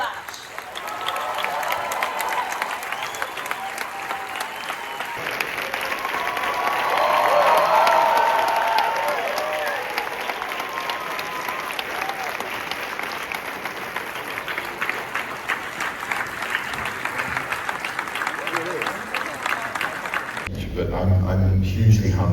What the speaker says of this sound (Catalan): Fort aplaudiment, sisplau, per al Benedict Cumberbatch.